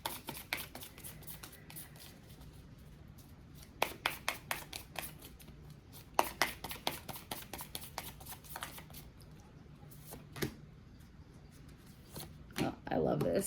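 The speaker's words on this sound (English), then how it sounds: "I'm going to go ahead and pull 2 of these Animal Spirit Oracle cards." Animal Spirit Oracle cards are shuffled and pulled from a deck in a series of crisp riffling snaps and card slaps, close and fairly quiet, with bursts of shuffling near the end.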